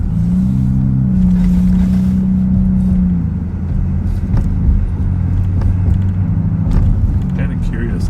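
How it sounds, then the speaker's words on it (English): A 4-cylinder car with a loud modified muffler rumbles steadily and close by, a deep droning exhaust note that holds for several seconds before shifting slightly as it continues. "It'd be a lot of money to get your muffler to sound like that."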